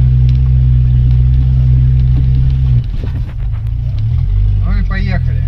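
A Toyota Chaser with a twin-turbo 1JZ-GTE engine rumbles loudly at idle, then the note shifts and rises as the car pulls away.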